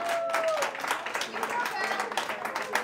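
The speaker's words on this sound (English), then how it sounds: "Big round of applause, please." Audience applause at a dance studio fall showcase before a tango performance, a steady wash of many hands clapping at moderate distance, with a brief tone and faint voices underneath.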